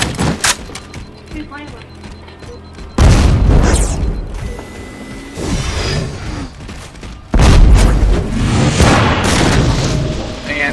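Deep, booming explosions from a sticky detonator in the video game Halo 4, on the Haven map, arriving in loud bursts mixed with gunfire and mechanical game effects, with a voice talking faintly underneath.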